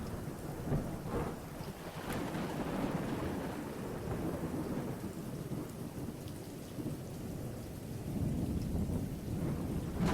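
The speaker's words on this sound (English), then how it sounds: "The rest of the party hears the water as the rain it is." Steady rain pours down in a thunderstorm, a dense, even hiss with low rumbles of thunder rolling underneath, continuous throughout and with no voices.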